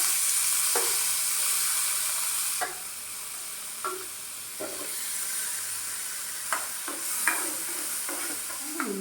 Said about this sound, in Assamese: বিলাহী 2টা ভাজিম।